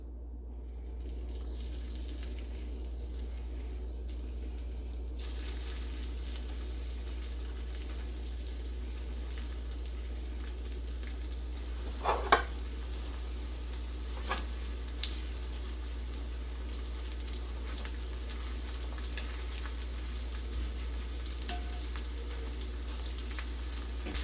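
Breaded chicken cutlets frying in a skillet of hot oil give a steady, soft sizzle with occasional pops and crackles, heard alone without talk.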